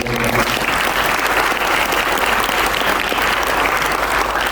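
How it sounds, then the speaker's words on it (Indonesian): Dense audience applause fills a youth church gathering in Solo, loud and steady throughout with no voices on top. "Bisa kasih tepuk tangan"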